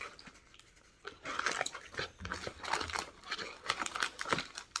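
Close, crisp crunching and chewing of Amazon Fresh cornstarch, with repeated squeaky crumbly bites and mouth sounds that follow a quiet start and grow louder in steady chomps.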